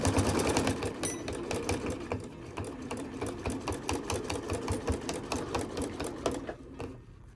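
A sewing machine stitches slowly through thick layers of folded towel fabric, a steady close mechanical whir with rapid needle pulses that run continuously before easing off at the end.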